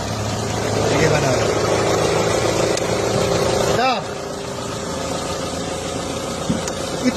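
A car engine runs steadily after a cylinder head gasket repair, a continuous mid-pitched hum with a brief dip partway through, heard close in a garage with voices talking over it.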